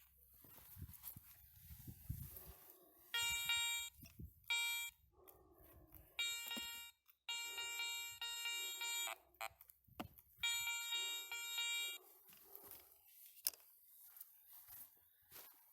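A Garrett 400i metal detector sounds repeated bursts of a bright, buzzing electronic tone over a coin buried in soil, several pulses in a row, with short gaps and low rustling between them.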